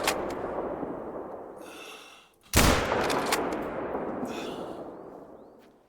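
A single sharp, loud rifle shot fired at an ibex in theHunter: Call of the Wild, cracking out at mid-clip over steady outdoor ambience and leaving a long echoing tail.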